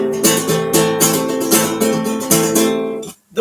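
Someone plays a classical nylon-string acoustic guitar in a lively, rhythmic strummed pattern with repeated chord attacks, close and full. The playing cuts off abruptly near the end.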